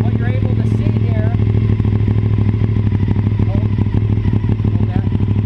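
A motorcycle engine idles steadily close by during a stator output test, a constant low rumble with mechanical clatter throughout, no speech over it.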